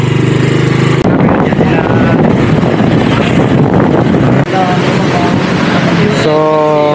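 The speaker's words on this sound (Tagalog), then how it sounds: "Lakas ng hangin." Strong seaside wind in Baler, Aurora, buffeting the microphone with loud continuous roaring gusts, and a voice briefly audible near the end.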